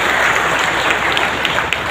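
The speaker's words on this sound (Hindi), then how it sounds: "जोरदार ताली से उनका स्वागत" A crowd at a political nomination rally gives a loud welcoming round of applause, thick continuous clapping with occasional sharper claps standing out, close and full throughout.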